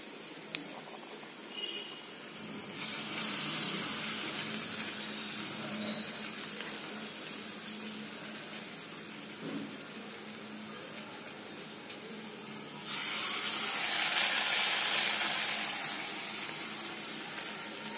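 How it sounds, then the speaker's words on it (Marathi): Steady, close sizzling hiss of urad dal vadas (lentil fritters) frying in hot oil in a wok, swelling louder toward the end. "पाण्याचा हात घेतल्यानंतर आपले हे वडे तेलामध्ये व्यवस्थित सोडले जातात।"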